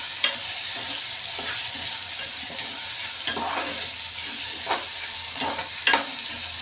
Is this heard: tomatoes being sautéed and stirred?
yes